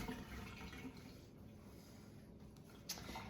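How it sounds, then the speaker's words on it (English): Hands rinsed under a running tap, a steady faint wash of water with a brief splash near the end, heard alone at a distance. "Rinse off my hands."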